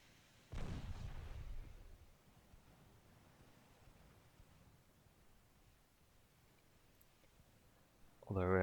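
Naval gunfire in the Ultimate Admiral Dreadnoughts warship game: one deep, heavy boom near the start rolls off into a low rumble, a long quiet stretch of faint background follows, and a second loud burst hits at the very end.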